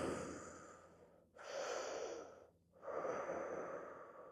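A person breathes heavily during exercise, with a sequence of close, breathy exhales separated by short pauses, quiet and alone without talk.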